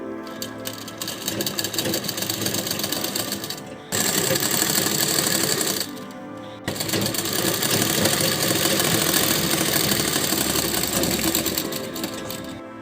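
A sewing machine runs in long continuous bursts stitching a strip onto a blouse, with a short pause between runs, loud and close with no talk.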